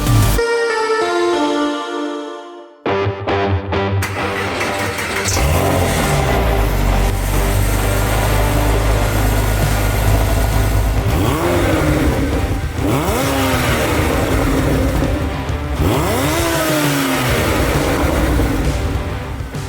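After a few seconds of musical tones and a short gap, a loud, close car engine revs repeatedly, rising and falling in several sweeping throttle bursts over a rough, continuous growl, with no talking.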